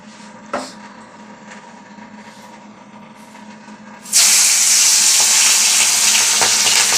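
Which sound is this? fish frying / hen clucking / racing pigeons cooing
fish frying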